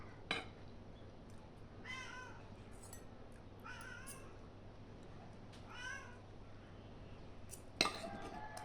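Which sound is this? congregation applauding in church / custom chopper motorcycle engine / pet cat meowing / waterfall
pet cat meowing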